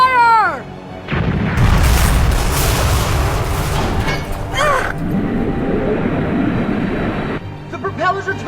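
Anime cannon fire: a loud boom opens a sustained heavy blast and rumble lasting several seconds, with a whistling descending tone at the start and a higher whoosh mid-way, then a quieter tail.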